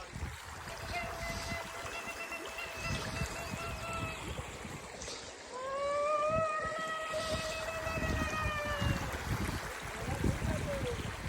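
Steady rushing water at a lake fills the scene, with a continuous broadband wash and some tonal whistling or calls layered on top throughout.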